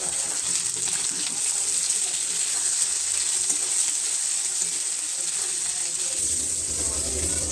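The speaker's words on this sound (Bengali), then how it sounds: "পেঁয়াজটা একটু লাল করে ভেজে নিই" Onions and potatoes fry in hot oil in a pan with a steady, dense, close sizzle and a light crackle, running continuously and fairly loud.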